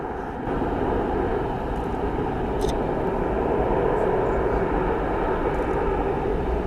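An Atlas Air Boeing 747-47UF cargo jet lands with its thrust reversers deployed, giving a loud, continuous broadband roar that holds steady for several seconds.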